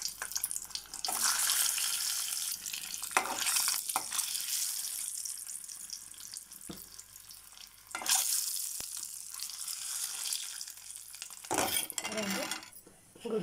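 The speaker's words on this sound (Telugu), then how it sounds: "గుడ్లు గోల్డెన్ బ్రౌన్ వచ్చే వరకు ఫ్రై చేసుకోవాలి." Eggs frying in oil seasoned with turmeric, salt and chili, a hissing sizzle that swells and fades over several seconds, broken by a few sharp scraping or clattering bursts.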